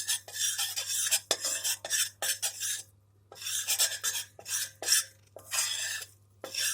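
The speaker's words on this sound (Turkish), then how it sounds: "İçerisinde topak kalmamak şeklinde karıştırarak." Tomato soup mixture is stirred in a pot to keep lumps from forming: rhythmic bursts of scraping and rasping from the utensil against the pot, with short quiet pauses between strokes, close and moderately loud.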